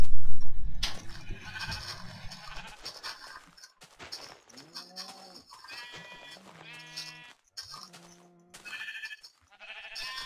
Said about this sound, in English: Come here, sheep. I need your freaking wool.